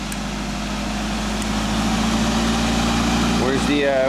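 A small engine on a Genie, tuned after a kill switch problem, holds a steady fast idle, a continuous close mechanical drone with a slight pitch rise near the end.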